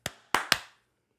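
A group claps together on a countdown, three sharp claps with the first alone and the last two close together, fairly faint and with no talk over them.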